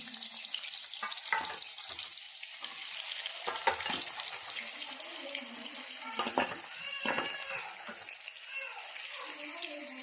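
A quiet, steady frying hiss rises from a pan in a home kitchen, with faint voices now and then in the background.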